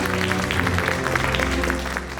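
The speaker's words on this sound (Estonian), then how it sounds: "Teeme suure aplausi." Audience applauding a winner at a youth electronics skills competition, a dense steady clapping that holds evenly at full level through the whole stretch without pauses.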